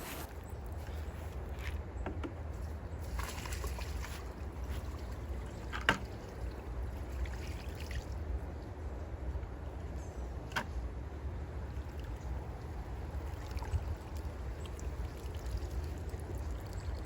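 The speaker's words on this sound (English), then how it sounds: "So I am pouring this water on it" Water is poured from a container onto homemade compost, a faint, steady trickle and splash outdoors with a low background rumble and a few small knocks.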